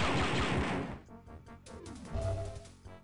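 Gunfire in the Dark Forces Star Wars shooter, a loud dense volley at first that breaks off into scattered sharp blasts with ringing tails, moderately close.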